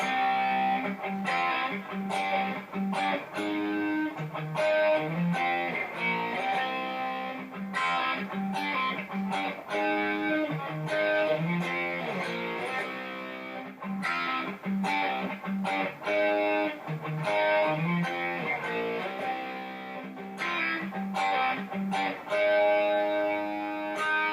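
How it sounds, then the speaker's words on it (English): A distorted electric guitar plays a chugging rhythm riff with steady, punchy strums and ringing chords, heavy with effects, no voices. "the rhythm guitar underneath the solo is pretty much like the same thing as the intro riff"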